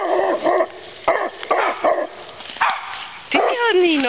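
A dog barks and yips in short bursts, with whimpering squeals near the end, while a person talks to it encouragingly in between.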